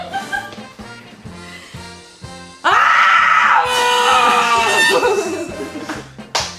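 A person screams loudly and at length, a harsh strained wail that breaks out suddenly over rhythmic background music and slowly falls away, with talking around it.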